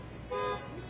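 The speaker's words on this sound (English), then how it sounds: "the horn honking is perfect" A car horn sounds once, a brief honk of under a second rising over a low street background, heard outside a New York City courthouse.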